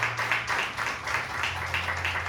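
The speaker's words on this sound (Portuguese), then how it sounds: "Você pode aplaudir mais uma vez?" A church congregation applauds in a steady, sustained wash of clapping, with a low continuous tone humming underneath throughout.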